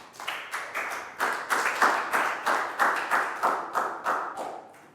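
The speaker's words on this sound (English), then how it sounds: "Big round of applause for Bangpon." A classroom of young students claps for a classmate in a quick rhythmic pattern, a run of about fifteen sharp, close group claps in steady bursts that fade slightly at the end.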